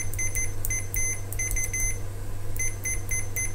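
A Fluke 87V multimeter's continuity tester gives short electronic beeps in quick bursts, a high steady tone cutting on and off over a constant low hum.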